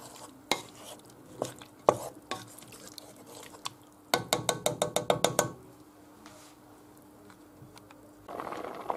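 Carrot cream soup with milk being stirred in a pot: bursts of spoon scraping and clinking, with a quick run of rhythmic taps in the middle and quieter stirring around it, close and alone.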